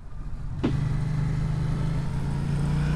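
Yamaha MT-07 (2018, A2-restricted) parallel-twin engine humming steadily at low revs after a gear change into fourth, a short transient then a constant droning note with wind rush, no talking.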